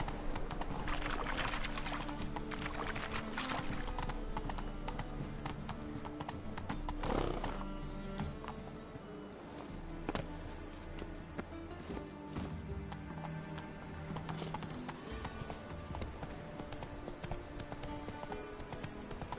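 Horse hooves clip-clopping at a steady pace in The Witcher 3, with a whinny near the start and a game soundtrack playing underneath throughout.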